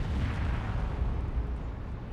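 A Nurgle tank blows up in the Dawn of War 2 strategy game, a deep rumbling explosion with dense low-end rolling and crackling debris that holds steady and loud for about two seconds, with no voices over it.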